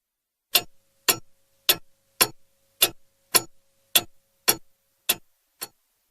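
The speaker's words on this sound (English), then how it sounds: "Tick." A clock ticks ten times at a steady, even rhythm of about two per second, each tick crisp and clear against complete silence.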